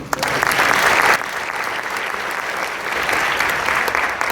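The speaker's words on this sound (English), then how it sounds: "would you please give the parents a round of applause?" A high school spring concert audience applauds the students' parents, a dense, steady wash of clapping filling the room for several seconds, swelling early then easing slightly and holding at a sustained level.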